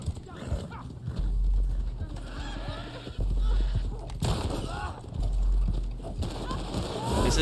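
Horse hooves clip-clopping with a whinny in the Red Dead Online video game, mixed with gunfire and explosive bursts, while people talk throughout.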